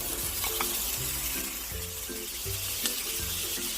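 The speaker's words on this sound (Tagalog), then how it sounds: "Isasatay lang natin until golden brown." Pork meat sautéing in a pan for a pork curry, a continuous close frying sizzle with a faint musical tone rising and falling in the background.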